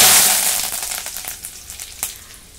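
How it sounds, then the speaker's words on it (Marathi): Curry leaves dropped into hot oil: a loud initial burst of sizzling that gradually settles into crackling spits and pops over a couple of seconds, with no voices. "कढीपत्ता मी तळून घेते."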